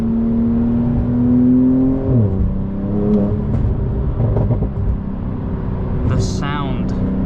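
A Porsche 911 Turbo S (992) with an Akrapovic exhaust drones steadily, its pitch rising and then dropping sharply mid-clip, with brief revving blips and a voice speaking near the end.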